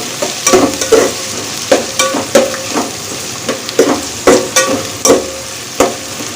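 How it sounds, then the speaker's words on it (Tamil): Onions and spices sautéing in a pan over a high gas flame, with a steady sizzle broken by repeated scraping strokes of a stirring spoon, close and fairly loud with no talk. "எல்லாத்தையும் நல்லா வதக்கி எடுத்துக்கலாம் இப்போ கேஸை ஹை ஃப்ளேம்க்கு நான் கன்வெர்ட் பண்ணிட்டேன்"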